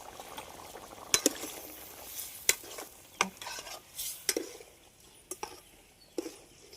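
A spoon scrapes and clinks against a pot of murrel fish curry cooking over a wood fire, giving sharp irregular knocks over a soft bubbling simmer, fairly close and with no talking.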